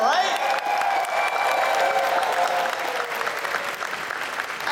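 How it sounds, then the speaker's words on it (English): A large convention crowd at a fursuit dance competition claps and cheers continuously, steady and loud throughout, with scattered whoops rising above the dense applause. "make sure you're cheering for everyone"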